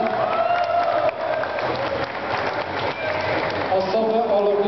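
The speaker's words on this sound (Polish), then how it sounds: "Brawa dla Insekcików" Audience applause and crowd noise fill a prize-giving ceremony at the Pixel Party 2010 gaming event in the Iglica hall, Poznań. The clapping is steady, dense and fairly loud throughout, with voices mixed in.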